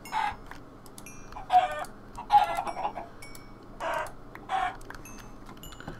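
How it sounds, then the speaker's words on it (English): Short bursts of Minecraft chicken clucking repeat at irregular intervals over a quiet background hum, with faint ticking clicks. "We're just going to kill off the rest of these chickens."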